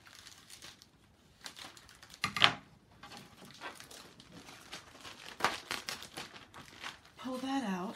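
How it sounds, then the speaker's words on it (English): Scissors cut open plastic packaging around a low tack adhesive cutting mat for a Scan n Cut SDX225, giving a few crinkling, snipping bursts close up in a quiet room. "So let me take my scissors and open that."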